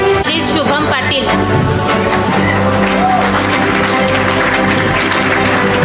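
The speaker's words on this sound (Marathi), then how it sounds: "संग्राम देशमुखसाठी सुद्धा जोरदार टाळ्या" An audience at an 11th anniversary award distribution claps loudly and continuously for a winner, dense applause under a music bed with crowd noise.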